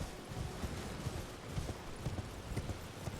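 A horse gallops in the video game Elden Ring, its hooves beating a quick, steady clip-clop rhythm under a dense wash of game ambience.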